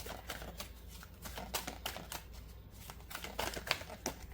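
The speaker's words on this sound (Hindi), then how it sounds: "मैं एक कार्ड शफल करती हूँ" Tarot cards are shuffled by hand in quick, crisp riffling flicks and taps, quiet and close, with no voices.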